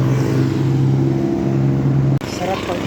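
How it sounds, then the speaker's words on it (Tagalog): Fast cars and motorbikes rumble past close by on a roadside street in Bagumbayan, Paete, a loud steady engine drone that cuts off abruptly near the end, while someone talks over the traffic. "Bilis ng mga sasakyan,"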